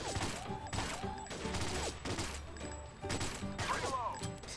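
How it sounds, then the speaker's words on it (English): Gunfire in the VR shooter Gun Club VR pops in repeated bursts at a moderate distance, with a steady barrage of shots and mechanical clatter layered over a dull background hum. "I'm getting gunned down with Stuke."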